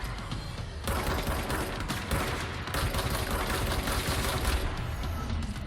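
Rapid sustained gunfire in Control, a dense, loud burst of repeated shots that starts abruptly just under a second in and runs continuously for several seconds, crackling close by with no talking over it.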